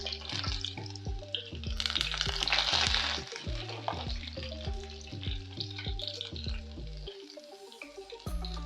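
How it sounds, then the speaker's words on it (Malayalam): Small shallots hit hot coconut oil in a clay pot after the mustard seeds have popped, giving a loud, steady sizzle with bursts of crackling, heaviest early on. A tonal background sound runs underneath. "കടുക് പൊട്ടി തീർന്നിട്ട് ഇതിലേക്ക് കുറച്ച് ചെറിയ ഉള്ളി ചേർത്ത് കൊടുക്കുക"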